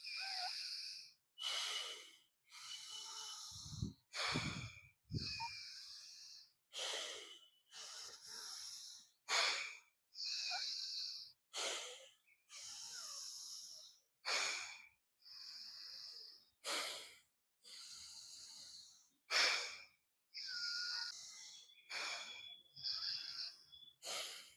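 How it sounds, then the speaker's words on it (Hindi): Long, deep pranayama breaths drawn in and pushed out through the nose, about a dozen slow, even cycles, close and breathy with no talking. "लंबे-लंबे साँस भरें, छोड़ें।"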